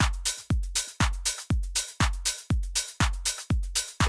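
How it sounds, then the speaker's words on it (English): An open hi-hat pattern from a MIDI drum track plays in a fast, steady loop of sizzling hats over punchy low kick hits, loud and close with no voices. "So he's got a MIDI track for these open hats."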